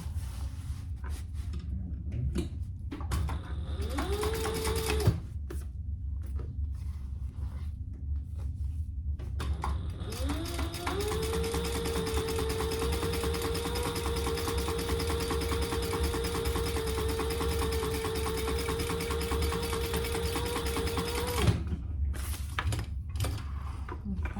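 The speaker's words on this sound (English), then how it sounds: "then top stitch that side" A sewing machine top stitches a zip pouch, first in a brief run and then in one long, steady, humming stretch of stitching before stopping, with quiet handling noises around it.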